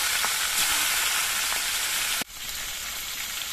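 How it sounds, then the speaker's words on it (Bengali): Aar fish frying in hot oil, a steady broadband sizzle that runs loud and close, then briefly dips and settles into a slightly softer continuous crackle. "তেলটা গরম হয়ে গেছে। এবার মাছগুলো আমি ভেজে নিচ্ছি।"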